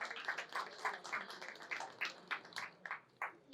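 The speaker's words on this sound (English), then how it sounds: "give yourself a round of applause" An audience at a motivational keynote applauds itself with a smattering of individual claps. The claps are fairly quiet, uneven in spacing and close together, and there is no speech over them.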